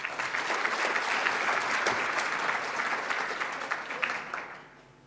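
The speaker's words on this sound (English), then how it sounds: "I think they deserve a round of applause." Sustained applause from a conference audience at an ICT summit, dense clapping at steady strength for several seconds, then tapering off toward the end.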